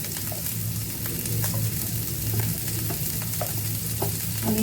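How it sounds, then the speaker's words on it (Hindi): Onion and chili fry in a pan with a steady close sizzle, and a spoon scrapes and stirs through them now and then. "अनियन को ट्रांसलेशन होने तक के लिए भूनेंगे हम"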